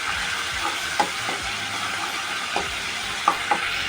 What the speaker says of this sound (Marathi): आलं लसूण पेस्ट मस्त अशी तेलामध्ये भाजलेली आहे